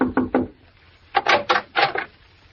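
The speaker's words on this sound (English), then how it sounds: "knocked at the door of cabin number" A radio-drama knock on a motel cabin door: three quick wooden raps, a short pause, then four more, close and dry.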